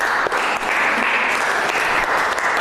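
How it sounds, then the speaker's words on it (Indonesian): A school class applauds a student team in a steady, loud burst of many hands clapping close by, with no break in the sound. "Tepuk tangan dulu dong untuk kelompok impor."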